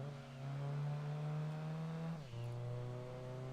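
A car engine in the racing video game Gran Turismo 2 hums steadily at high revs, then drops in pitch briefly as it shifts or eases off before holding a lower steady tone, loud and alone.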